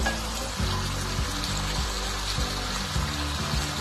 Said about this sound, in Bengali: আরো 1 বাটি জল দিয়ে দিলাম।